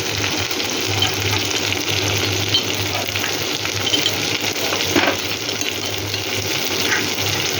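Green chillies frying in a pan of oil for katla fish curry, giving a steady, close, continuous sizzle with no talking.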